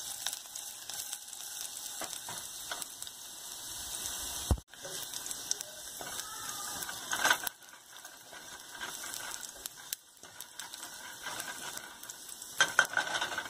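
Chopped green chili, garlic and fenugreek seeds frying in a pan for a bottle gourd dish, giving a steady close sizzle with occasional stirring scrapes and clatters throughout.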